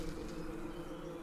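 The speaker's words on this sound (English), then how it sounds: "A bunch of bees are gonna come out." Swarm of bees buzzing in the video game Dandara, a steady, dense drone holding evenly throughout with no talk over it.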